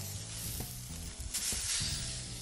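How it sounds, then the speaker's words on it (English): Bacon kebabs sizzle steadily on a barbecue grill set to high, a close, even crackle with a faint low tone underneath. "all we have to do is just place our kebabs onto our barbecue"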